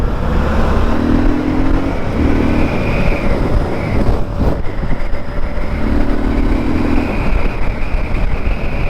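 A Triumph Scrambler 1200 motorcycle pulls hard on the road, its engine note climbing through two rising sweeps with a gear change between, loud and close over steady wind and road roar.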